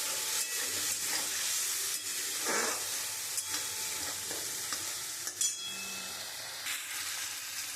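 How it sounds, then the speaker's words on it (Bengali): Spice paste with ginger, cumin and coriander powder frying in a pan for a fish curry, a continuous loud sizzle broken by scraping stirring strokes and faint clinks, with no talking. "এবার মশলাটা আমি ভালো করে কষিয়ে নেবো।"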